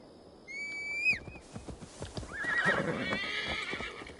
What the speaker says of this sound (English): I'm going to ride. I don't normally use my horse, but I am.